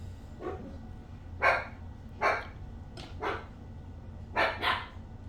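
Indoors, a puppy barks repeatedly from somewhere in the background, with six or seven short, sharp yaps coming in loose pairs and singles over a low, steady room hum.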